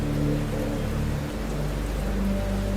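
Steady rain falls on a stormy night, a dense, loud wash of hiss with a low rumbling bed underneath, continuous and unbroken with no voices.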